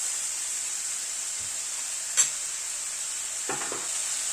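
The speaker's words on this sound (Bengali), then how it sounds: "এবার মশলাটাকে একটু কষিয়ে নেব।" A spice paste with ground green chilli is stir-fried in a pan for a fish curry, giving a steady high sizzle throughout. One sharp utensil clink and a couple of soft scraping stirs sit over it.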